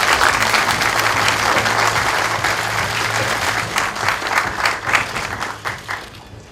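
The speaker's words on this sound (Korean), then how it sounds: "황창규 회장님을 큰 박수로 맞이해 주시면 감사하겠습니다" A press-conference audience gives sustained, dense applause to welcome KT chairman Hwang Chang-gyu, with individual claps standing out as it thins toward the end.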